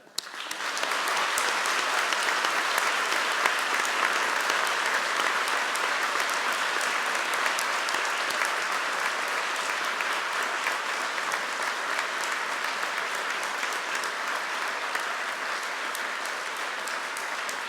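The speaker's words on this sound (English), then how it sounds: "join with me in applauding your family and friends who are with us here" A seated audience applauds the family and friends attending a ceremony, with steady, dense clapping from many hands that starts abruptly and holds at an even level for the whole stretch, with no speech over it.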